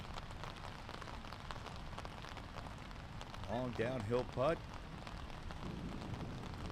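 Heavy rain pours steadily over a high school golf course in Granada, a constant close wash of noise while a commentator speaks briefly partway through.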